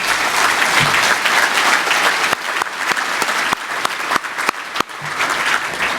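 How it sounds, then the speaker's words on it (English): A crowd at a community leadership breakfast claps for a young scout named Ricky, sustained loud applause throughout with a few sharp individual claps standing out near the end. "let's get another round of applause for Ricky"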